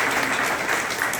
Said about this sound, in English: Can we give Chief Olson a big round of applause?